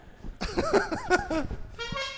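A voice gives a nasal, honking cry that imitates a goose, wavering up and down over about a second, followed by a brief higher tone.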